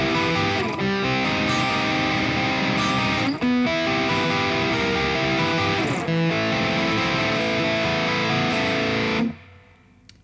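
A heavily distorted electric guitar plays four minor chords in black metal style with rapid picking, dense and loud, then cuts off sharply with a short fading ring.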